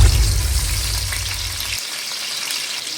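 Onion and green chillies frying in oil with a little ghee for mutton pulao, a close steady hiss and sizzle that carries on evenly, with a low rumble dropping out partway.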